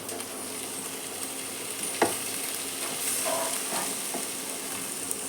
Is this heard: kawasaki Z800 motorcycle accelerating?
no